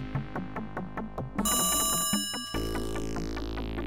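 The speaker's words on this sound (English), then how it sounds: "you should be able to go back inside and hear the phone ringing" A telephone rings in the computer game Dark Seed: a run of quick, repeated electronic bell pulses, then a bright sustained ringing tone, heard alone and fairly clear.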